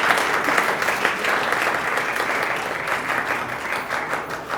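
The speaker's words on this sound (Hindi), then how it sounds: "ज़ोरदार तालियां" Loud, steady applause from a crowd at a Hindi ghazal poetry event, continuous clapping that fills the whole stretch without pause.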